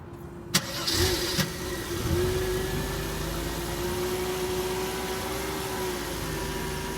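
A Mercedes-Benz car engine cranks and catches, then settles into a steady running idle with a constant hum, close by and fairly loud.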